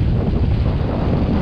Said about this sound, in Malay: Luar biasa kencang angin.